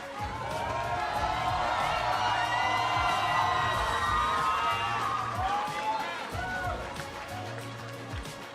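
A large arena crowd at a 2017 League of Legends All-Star event cheers and whoops steadily for several seconds, loud and sustained before easing slightly, with shouts rising above the general roar.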